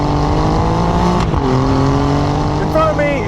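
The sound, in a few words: Alfa Romeo Giulia Quadrifoglio Ferrari-derived V6 engine revving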